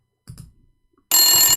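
An old landline telephone bell rings in one loud, sustained burst, preceded by a couple of faint, low clicks and thumps.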